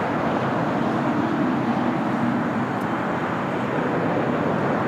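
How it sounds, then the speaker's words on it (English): A United Airlines Boeing 787-9 Dreamliner, eight years old and arriving at LAX from London Heathrow, makes a steady, broad jet roar that stays strong and unbroken throughout. "United Airlines 230 coming in from London Heathrow on this 8-year-old 787-9 Dreamliner"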